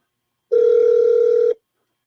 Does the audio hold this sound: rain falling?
no